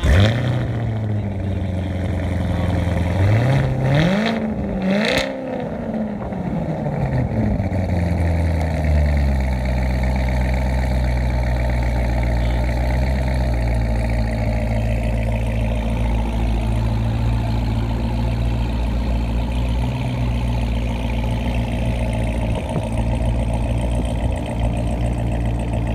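A Corvette ZR1 revs hard for a burnout, its engine swelling up and down in pitch before settling into a loud, sustained roar that carries on alone for the rest of the stretch.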